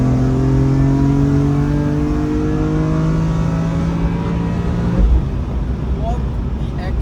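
BMW E46 M3 CSL straight-six revving hard in manual mode, a loud, steady climbing engine note held for several seconds, then a sudden drop and shift into rougher, lower road and engine noise.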